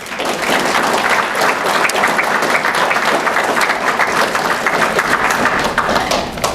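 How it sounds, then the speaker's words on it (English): A spirited round of applause from a dinner audience at a 4-H Foundation Hall of Fame and Membership dinner, loud, dense and continuous throughout with no pauses. "let's show our appreciation for all her accomplishments and dedication to 4-H with a spirited and heartfelt round of applause"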